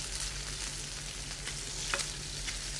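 Langoustines fry in olive oil over moderate heat, giving a steady, close hissing sizzle that holds evenly throughout with a faint crackle near the end.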